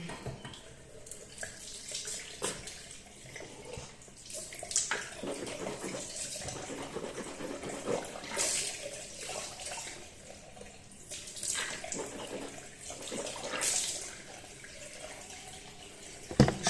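Tap water runs steadily into a bathroom sink while someone rinses their mouth after a teeth-whitening treatment, with gurgling and splashing surges rising and falling over a continuous flow, close by and moderately loud.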